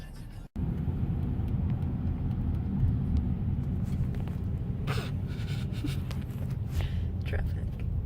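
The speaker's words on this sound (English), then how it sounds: "Traffic." Steady road traffic near an airport gives a continuous low rumble of passing cars, fairly loud and unbroken, with faint scattered noises on top.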